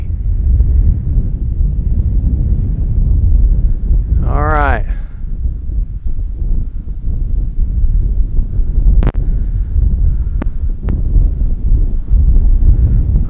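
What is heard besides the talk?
strong wind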